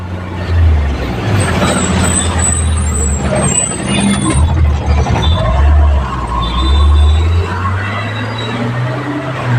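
A city bus in Delhi traffic rumbles loudly nearby with heavy low engine drone and swelling revs as it slows, under a busy street wash of passing vehicles, with no one speaking.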